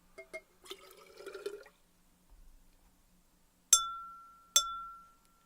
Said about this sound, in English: the amount of liquid in the glass will change how much it vibrates and how much of a pitch you get out of the glass